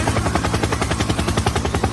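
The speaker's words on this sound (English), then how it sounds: "Helicopter, helicopter." Helicopter rotor thudding in a steady rapid chop, loud and close, filling the whole stretch with no voices over it.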